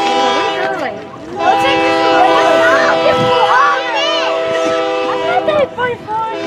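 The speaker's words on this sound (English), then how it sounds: "No, but the horn's coming from this way." A loud, sustained Union Pacific train horn blares with rich stacked tones in Columbus, Nebraska, steady and near, while people talk and shout over it.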